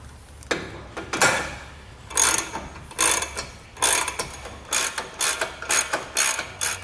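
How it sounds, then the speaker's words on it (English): A ratchet turns bolts while a Blue Ox base plate kit is fitted to a 2003 Jeep Wrangler, making close, loud bursts of quick clicking strokes that come faster toward the end. "it's also a good idea to turn on the bolt a few times, go to the other one, and kind of alternate between all three of them"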